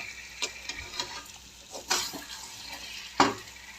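Chicken pieces being stir-fried (kosha) in released oil for chicken kasundi, a close, steady sizzle with intermittent scraping stirs and a few sharper clinks, no voices.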